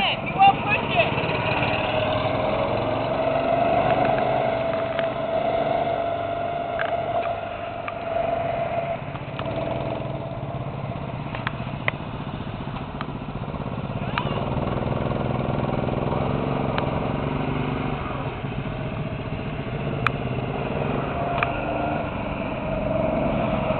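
A small go-kart engine drones steadily at a Birch Bay track, a continuous mid-pitched hum with faint ticks running throughout while people talk over it.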